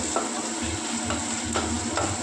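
Bitter gourd pieces stirred in hot oil with spices, a steady loud sizzle with a spoon scraping the pan in a few distinct strokes, close by and without talking.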